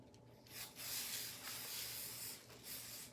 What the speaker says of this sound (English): I'm just gonna spray a little bit of spray adhesive on there.